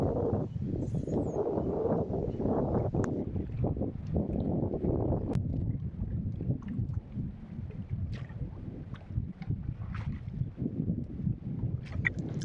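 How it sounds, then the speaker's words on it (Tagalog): Strong wind buffets a small fishing boat at sea, a steady broad rumble of gusts and water noise running throughout, loud and continuous with no voices. "malakas nga hangin mga idol."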